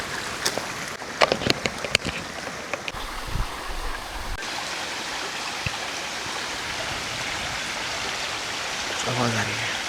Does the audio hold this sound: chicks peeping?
no